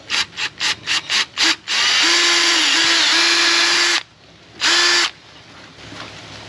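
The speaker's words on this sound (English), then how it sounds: "With an 8mm drill bit, and drill a hole through it." An 8mm bit drilling a hole through a thin board about 3 to 4mm thick, likely a recovery track panel: a loud power drill pulses in short bursts, then runs steadily for about two seconds, stops, and gives one final burst.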